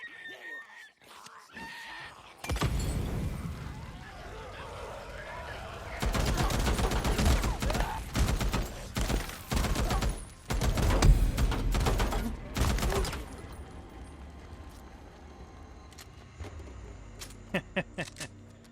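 Gunfire from a weapon in the video game Days Gone, bursts of loud shots from mid-clip onward, with sharp isolated cracks near the end.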